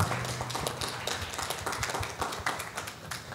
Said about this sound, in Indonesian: Tepuk tangan dong buat tepuk tangan untuk cast-nya